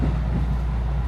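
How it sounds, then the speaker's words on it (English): A local train bound for Kyoto in Japan gives a steady low rumble from inside the carriage, continuous and fairly loud with no talk. "This is the local train bound for Kyoto."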